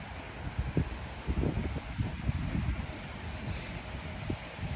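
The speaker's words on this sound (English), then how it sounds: "The sound of the wind blowing and brushing these leaves together." Gusty wind rumbles against the microphone while leaves rustle and brush together in waves, steady and close, with no voices.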